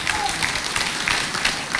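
Studio audience applauding on a TV entertainment show, a steady dense wash of clapping that carries evenly through the moment with no voices standing out.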